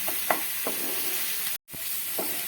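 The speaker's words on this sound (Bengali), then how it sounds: "মশলাটা আমার মিডিয়াম ফ্লেমে রেখে কষিয়ে নিচ্ছি মশলাটাকে" Masala spices frying in a kadhai over a medium flame for kadhai paneer, a low sizzle broken by a few soft spatula scrapes and a brief dropout.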